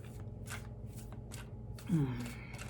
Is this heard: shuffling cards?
yes